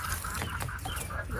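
Garden chickens and roosters squawk and cackle in a noisy flurry of overlapping honking calls, close and continuous without talk.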